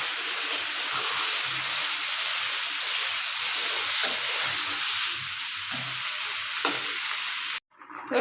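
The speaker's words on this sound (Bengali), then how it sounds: "এখন আমি দিয়ে দেবো পর্যাপ্ত পরিমাণে ঝোল আলুটা সিদ্ধ হওয়ার জন্য" Potatoes simmer in broth for a hilsa fish and potato curry, giving a steady, loud bubbling sizzle that runs without pause until it cuts off abruptly near the end.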